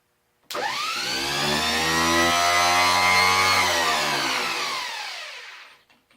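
A Ramsey DC9-1 winch motor running after reassembly, starting abruptly with a rising whine that settles into a loud, steady electric-motor drone, then winds down and fades over the last second, alone and close.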